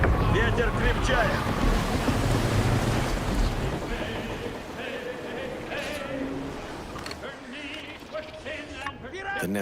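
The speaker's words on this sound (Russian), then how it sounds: "Ветер крепчает!" In the Assassin's Creed Black Flag pirate game, a sailing ship is at sea as wind and ocean waves keep up a steady, loud wash throughout, with other game effects layered in the mix.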